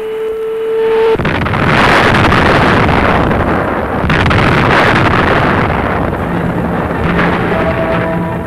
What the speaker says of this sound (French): cette fusée nommée Centaur a explosé en vol 50 secondes après son lancement